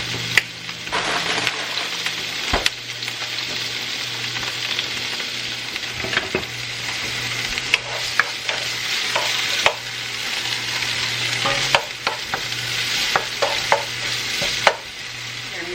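Vegetables fry with fajita seasoning in a hot pan, a loud continuous sizzle over several seconds with intermittent clicks and scrapes of a stirring utensil, no voices.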